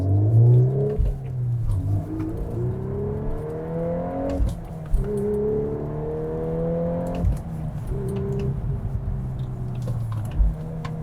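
A VW Golf R Mk8 fitted with a short shift kit accelerates hard through several gears, its engine note climbing in pitch and dropping at each upshift, loud and close with no talking.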